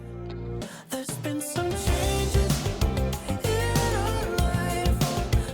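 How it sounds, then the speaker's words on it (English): A full pop chorus plays, with thick layered vocals stacked over a dense, driving backing track, loud and continuous. "What you're hearing here is stacks of vocals, not just one vocal take"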